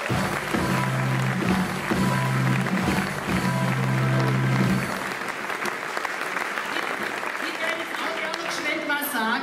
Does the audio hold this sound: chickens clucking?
no